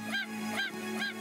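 A chicken in the video game Craftopia gives three evenly spaced, honking squawks, close and clear over a faint steady hum, with no talk.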